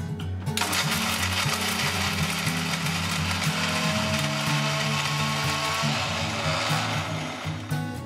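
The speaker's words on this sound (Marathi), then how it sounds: "हा भाजलेला कोरडा मसाला आणि भाजलेलं खोबरं आपण एकत्र मिक्सरमध्ये बारीक करून घेऊया" A mixer grinder runs loud and steady, pulverising roasted dry spices and roasted coconut for Mumbai-style black pav bhaji masala; a constant motor whine with harsh rattling grit lasts from start to finish after a brief quiet start.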